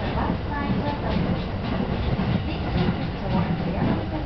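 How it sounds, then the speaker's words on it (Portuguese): Steady rumble and rattle inside a moving train in Tokyo, with rhythmic clacking of wheels on track and faint voices in the background. "Aqui também um pouco do interior do trem."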